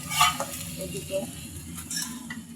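Rotis fry in a pan during home cooking for an iftar meal, with a soft sizzle and a few light clinks of a utensil against cookware. The sounds are close and moderate, and nobody talks over them.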